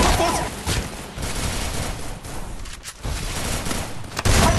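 Dense, rapid bursts of gunfire from Free Fire gameplay fill the mix with sharp cracks and a louder shot near the end, while a player's voice talks faintly underneath.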